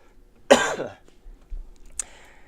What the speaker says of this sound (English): Man, can't stop coughing